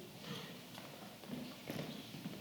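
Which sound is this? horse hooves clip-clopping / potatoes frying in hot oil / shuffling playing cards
horse hooves clip-clopping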